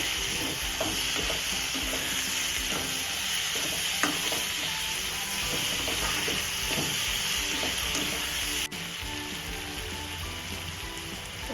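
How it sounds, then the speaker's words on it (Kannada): Cooked vegetables for bread peas pulao being stirred into frying masala in a pan, with a continuous close sizzle and occasional scraping and clinking of the spoon against the metal. "ಸೊ ಈ ತರಕಾರಿ ಬೇಯಿಸ್ಕೊಂಡಿರೋದನ್ನು ಇದಕ್ಕೆ ಆ್ಯಡ್ ಮಾಡಿಕೊಂಡು ಅದನ್ನು ಸ್ವಲ್ಪ ತಿರುಗಿಸ್ಕೊಳ್ಳಿ"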